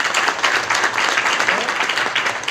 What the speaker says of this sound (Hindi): तो एक बार तालियां बजाइए जोर से